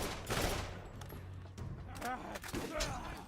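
Shotgun blasts in a video game played on a Steam Deck, with a few loud booming shots mixed with other game effects, fairly close, under a background of game noise.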